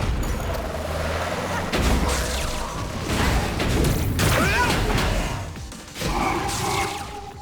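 Explosions and combat effects from the video game Scarlet Nexus burst in a run of booms and crashes, loud and close, with whooshing hits and a few short voices among the noise.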